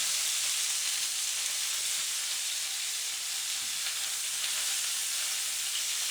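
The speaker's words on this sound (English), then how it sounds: "we want to get that fried, not boiling from all the liquid coming out of the chicken" Chicken fries in a hot pan over an open fire, a loud, continuous close-up sizzle and crackle with no talking.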